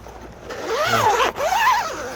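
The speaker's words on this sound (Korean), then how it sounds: "지퍼가 이렇게 양쪽으로 있어서 네, 편하게 열고 닫고 하실 수 있습니다" A zipper on a custom-fitted car sunshade mosquito-net curtain for a Hyundai Palisade is pulled open in two quick rasping strokes, loud and close, with no speech over it.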